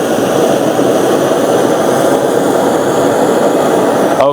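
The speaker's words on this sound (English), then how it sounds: "the JetBoil flame is still intact and it's alive" A JetBoil Flash camping stove burner roars with a loud, steady, close rushing flame that holds unbroken for several seconds.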